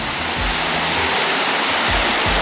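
A waterfall roars as a loud, steady wash of broadband noise, recorded close with a few low thumps of wind or handling, and no voices.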